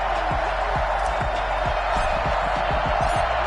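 Stadium crowd in the video game Madden 21 at an NFL game between the Los Angeles Chargers and New York Jets, a loud, steady roar of cheering with scattered thumps running through it.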